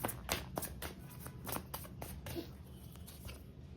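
Tarot cards being shuffled and drawn for a reading, a dense run of crisp riffling and flicking strokes close by, fairly quiet and steady, with no talking over them.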